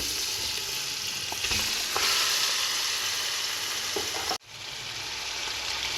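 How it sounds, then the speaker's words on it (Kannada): Chicken frying with salt, turmeric and onion in a pan sizzles steadily up close, with scraping stir strokes and a sudden brief dropout partway through before the hiss returns. "ಸ್ವಲ್ಪ ಉಪ್ಪು ಹಾಕ್ಕೊಂಡು ಒಂದು 5 ನಿಮಿಷ ಚೆನ್ನಾಗಿ ಹುರಿಯೋಣ"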